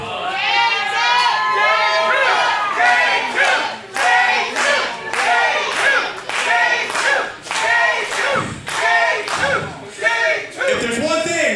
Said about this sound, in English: Hearing every single one of you cheer for J2.